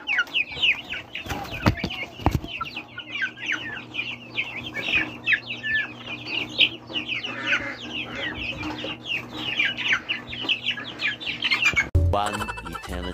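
Ayam Cemani chickens cluck and chirp in a backyard, a busy chorus of overlapping close calls with a low steady hum beneath and a brief clatter near the end.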